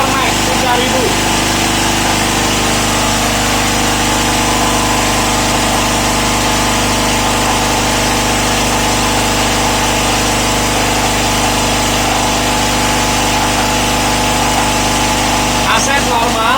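Proquip E3X petrol generator running under a heavy load near 3000 watts, a loud, steady engine drone with a constant low hum throughout.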